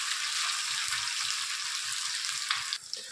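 Shark fish mince hisses as it fries in oil in a pan, a dense steady sizzle with soft scraping stirs underneath, easing off near the end.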